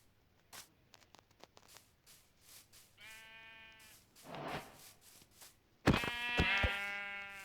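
Sheep in the Minecraft video game give several distinct bleats, the last one loud and wavering. Fast clicking and tapping from game actions come before them.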